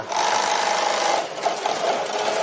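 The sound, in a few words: sewing machine stitching leather car seat pieces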